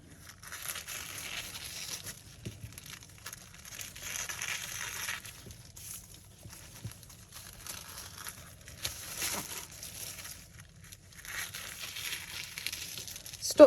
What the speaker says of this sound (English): So I'm going to cut this all the way down again.